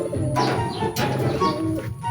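Pigeons coo softly at close range in a rural loft setting in Alimodian, Iloilo, with repeated low, throaty calls over faint background hiss.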